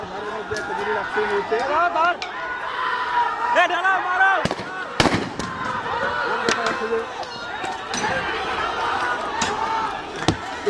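Sharp, loud gunshots crack out several times amid a chaotic crowd of shouting protesters on a street, with scattered impacts between them.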